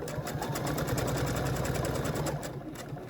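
A sewing machine runs steadily, stitching placemat fabric in one continuous close, loud whir with a fast even needle rhythm throughout.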